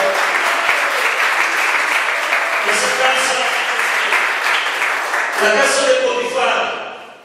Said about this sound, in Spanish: Dale ese aplauso a Dios esta noche.